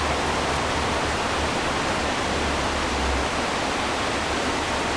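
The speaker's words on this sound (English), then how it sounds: "the noise of the river, I am aware, is picking up on the microphone" A river flows steadily outdoors, a dense, close rushing wash with low rumble underneath, continuous and loud for the whole stretch with no voices.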